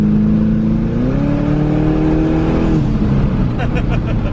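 A twin-turbo Chevrolet Camaro ZL1 heard from inside while driving, a loud steady engine drone with rising revs under heavy wind noise, a voice talking over it.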